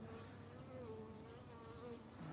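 Honey bees hum steadily around a beehive feeder box outdoors, a continuous close buzzing drone with no other sounds over it.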